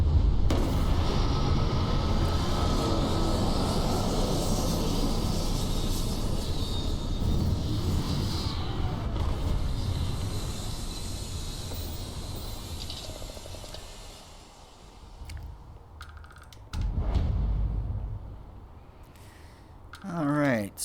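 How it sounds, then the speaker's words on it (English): A spaceship lands in Starfield with a loud, sustained engine roar and rumble that gradually fades, followed by a few thuds and whooshes as it settles. "Beginning landing cycle."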